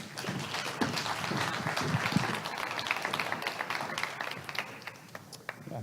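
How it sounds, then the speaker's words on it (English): Audience applause after a TEDx speaker introduction, a dense sustained patter of clapping hands lasting several seconds at moderate level, with a few sharper individual claps standing out near the end. "Round of applause, please."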